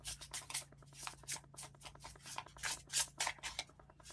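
Soft shuffling and sliding of angel oracle cards being handled and pulled from the deck, a quiet, steady run of papery rubs and flicks over a faint low hum, without talking.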